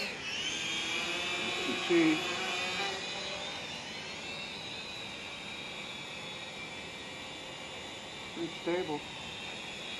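A small TENSSENX TSRC X7 GPS drone hovers with a steady, high whirring whine of its propellers that holds throughout, close by. Someone talks over it now and then.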